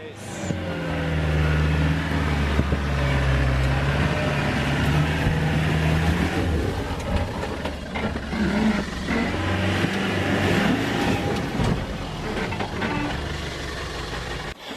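4WD reversing and then driving back up a rock shelf on an off-road bush track, engine idling and revving in a steady mid-pitched drone, close by, with people talking over it.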